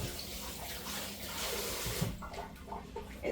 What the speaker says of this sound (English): rinse the potato, and come back.